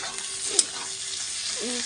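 Spices and chilies fry in oil in a pan for chicken curry, a close, steady sizzle with a sharp scrape of stirring partway through and a brief voice near the end.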